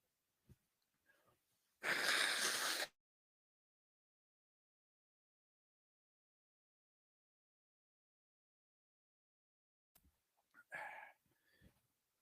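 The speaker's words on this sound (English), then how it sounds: "gotta blow my nose." A single loud nose blow, about a second of forceful breathy burst, alone in near silence, followed later by faint shuffling sounds.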